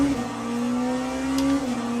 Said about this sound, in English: BMW pulls into the pit lane.